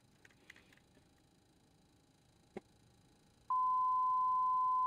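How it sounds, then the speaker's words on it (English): A steady electronic warning tone from a C130 aircraft begins partway through and holds continuously at one pitch, loud and clear, after a few faint clicks and knocks. "Wait for plane to start beeping at me."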